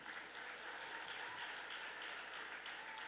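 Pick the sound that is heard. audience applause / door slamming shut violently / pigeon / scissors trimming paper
audience applause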